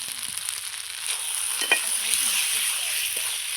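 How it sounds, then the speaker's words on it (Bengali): Chopped tomato hits a pan of mirka fish curry with new potatoes, giving a dense, continuous sizzle with a few scraping stirs, close and steady. "এই টমেটোটা দিয়ে একটু কষিয়ে নেব"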